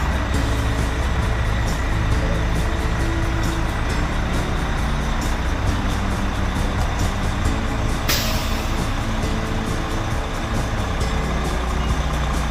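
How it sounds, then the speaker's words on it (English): A long line of heavy fire trucks rumbles past nearby in Warrior Run, Pennsylvania, their engines droning loudly and continuously, with a faint repeated beeping over the roar. "We're gonna have a long line of fire trucks coming up here in a second."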